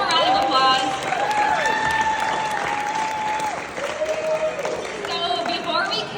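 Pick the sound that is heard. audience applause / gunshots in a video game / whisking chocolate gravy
audience applause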